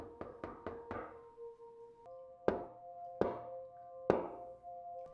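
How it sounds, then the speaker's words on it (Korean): Knocking on a motel room door: a quick run of four raps, then three slower, spaced single knocks, close and resonant in a quiet room. "갑자기 들려오는 노크 소리"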